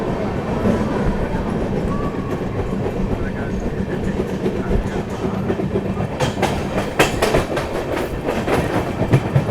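Amrit Bharat Express train rolling out of Bardhaman station at night, with steady rumbling wheel noise that grows into rhythmic clickety-clack over the rail joints, heard close and continuous.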